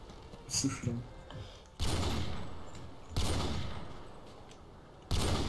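Gunfire from a mounted turret in the Modern Warfare 2 video game on the Rust map, three loud sustained bursts that each fade away, separated by quieter stretches with brief game sounds.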